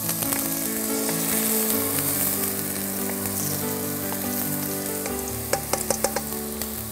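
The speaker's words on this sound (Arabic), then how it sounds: "هون البصل والثوم شقروا مع بعضهم." Onion and garlic fry in a pan with a steady, close sizzle and crackle, some stirring scrapes, and a few louder pops near the end; no one speaks.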